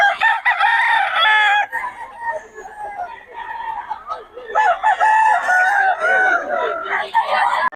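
Roosters crow repeatedly at close range among chickens for sale, loud strained cock-a-doodle-doo calls with clucking between them and occasional voices in the background.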